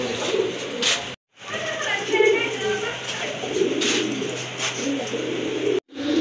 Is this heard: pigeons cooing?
yes